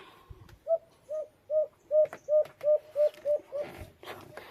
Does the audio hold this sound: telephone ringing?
no